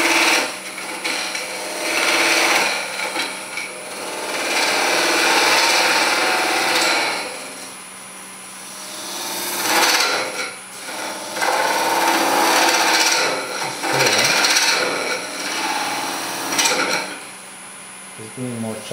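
A chisel cuts and scrapes a wooden kuksa cup on a lathe in bursts of rasping, hissing shavings with brief knocks and pauses between passes, close and fairly loud.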